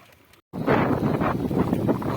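Strong wind in bad weather at sea, a loud low buffeting roar that begins abruptly after a brief gap and blusters steadily against the microphone.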